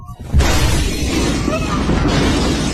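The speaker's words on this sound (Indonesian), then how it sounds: "Ledakan memicu kekacauan." An explosion goes off at a police station: a sudden heavy boom that swells into a loud, sustained roar of rumbling debris, lasting for several seconds.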